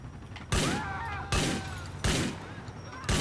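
Gunfire in Grand Theft Auto IV: four loud, evenly spaced shots crack out roughly every 0.8 seconds, each with a ringing metallic tail, close and dominant over faint background game noise.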